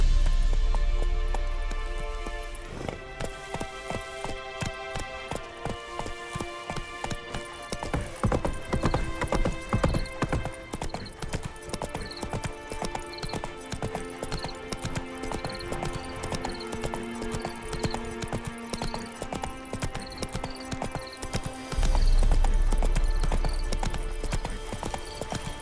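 Roach, a horse in the video game The Witcher 3, trots with steady rhythmic clip-clop hoofbeats over a music score, with occasional whinnies and a snort near the end.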